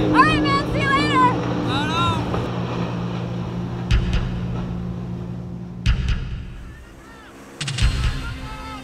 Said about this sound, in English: Mr. Trescott, you have been driving the boat in the sun, the wind, the glare, and the noise for much of the day.